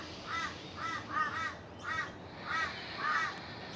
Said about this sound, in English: Ignoring those very loud crows.